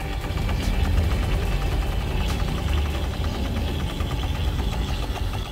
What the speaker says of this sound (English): That's the sound of the motor winding.